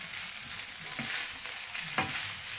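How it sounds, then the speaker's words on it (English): Broccoli being stirred into prawn fried rice frying in a pan, a steady hiss of sizzling with soft scraping stirs, close and without talk. "The rice already been cooked, so, and then I can mix the broccoli."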